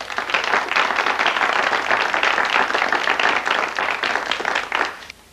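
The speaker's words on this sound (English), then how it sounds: "Give her some applause." Sustained audience applause following a sales presentation, a dense wash of many hands clapping at steady loudness for about five seconds before tapering off abruptly at the end.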